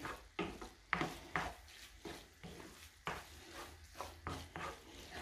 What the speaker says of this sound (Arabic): غادي نخلط هنايا مع لاصوص مزيان